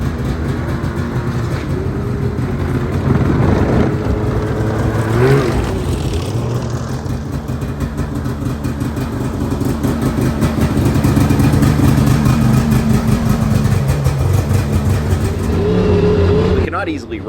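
A snowmobile engine drones loud and continuous while riding on fresh snow on a sunny day in Michigan's Upper Peninsula, its pitch rising and falling with throttle, and a voice talks over it.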